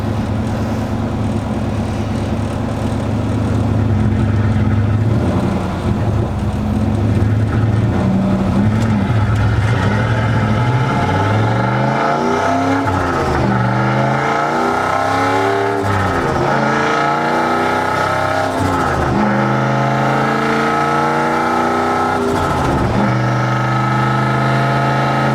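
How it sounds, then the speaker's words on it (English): A loud turbocharged 2004 Ford Mustang Mach 1 exhaust revs up and down repeatedly, the engine pitch sweeping high and falling back in rough, throaty surges, close and continuous. "I was a little disappointed in the exhaust note, but this completely fixes that."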